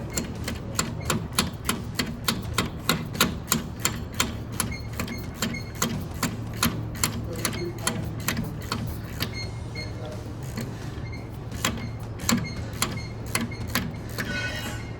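A ratchet with a 6-point socket works on a rear brake line fitting, giving steady, evenly spaced clicks over a constant low mechanical hum that continue throughout.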